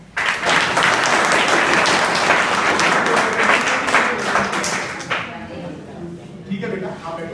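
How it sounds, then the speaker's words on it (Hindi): Schoolchildren in a classroom break into loud, dense applause lasting several seconds, then tapering into scattered claps with a voice at the end. "ताली बजाओ"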